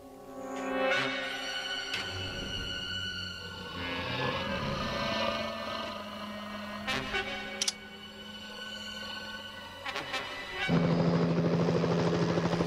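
A Deus Ex-style helicopter's rotor drone hums steadily under scattered sharp tones and effects, swelling louder and closer toward the end.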